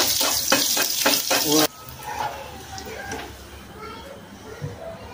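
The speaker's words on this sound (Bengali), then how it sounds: "আমরা লুচি ভাজবো, সুন্দর করে লুচিটা ভেজে নিব।" Luchi bread sizzles loudly in hot oil in a home kitchen for under two seconds, with a few stirring scrapes, then the frying falls away to faint kitchen noise and a voice talking quietly.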